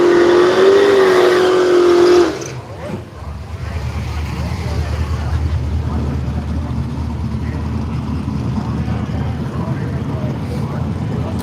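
A Mazda drag racing car at a radial drag meet at Willowbank, Australia, holds a loud high-revving engine note for about two seconds, then cuts off into a lower rumbling drone.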